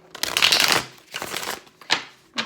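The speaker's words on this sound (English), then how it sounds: "I'll shuffle on camera for you guys." Tarot cards being shuffled by hand at close range, several quick riffling bursts with short pauses between them, no talking over them.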